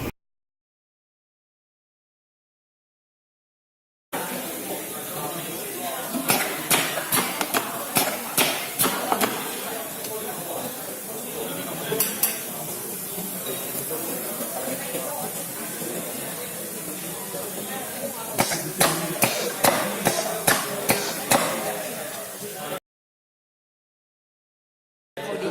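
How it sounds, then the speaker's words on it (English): A mechatronic conveyor belt runs with a steady hiss while pneumatic cylinders retract and extend in bursts of sharp clicking thuds, with clusters of repeated actuations near the start and again toward the end. "here we can see the conveyor is moving, the sensor detects the metal, and then the cylinders start to retract and extend"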